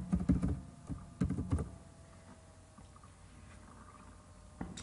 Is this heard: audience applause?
no